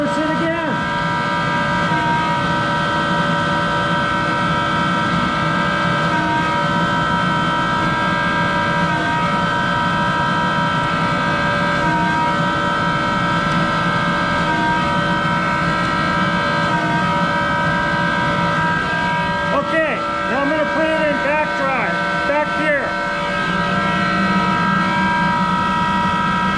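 A Monarch 10EE lathe runs steadily in reverse at about 400 RPM, a loud continuous machine whine with layered steady tones, with a brief shift in the sound near the end.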